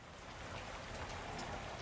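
Rain in the horror video game VHS Slaughter, a continuous soft hiss of falling drops with a low rumbling undertone, faint and unbroken for a couple of seconds.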